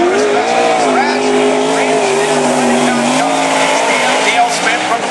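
Race car on a dirt oval at Cottage Grove, the number 41 car, its engine droning loudly and steadily with shifting pitch, beneath continuous announcer talk over the track.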